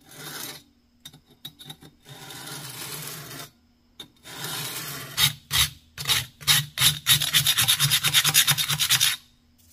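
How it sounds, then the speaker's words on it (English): A wooden core for the connecting rod bearings of a 1917 Vulcan is hand-sanded with rasping back-and-forth strokes, at first sparse and hesitant, then building into a fast, even run of loud, close rubs before stopping. "I'm gonna sand this down just a little more."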